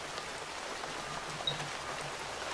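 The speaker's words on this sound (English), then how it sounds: "It's nice and rainy outside." Steady rain falls outdoors on an autumn day, a soft continuous hiss of drops on surfaces with no talking over it.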